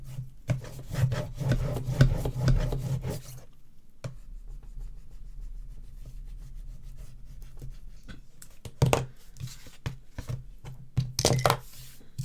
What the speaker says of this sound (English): put them up close and give that a good burnish